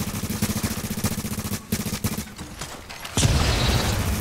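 Machine gun fire in the video game The Division rattles out in rapid, regular bursts, pauses briefly, then resumes with a heavier sustained roar of gunfire toward the end.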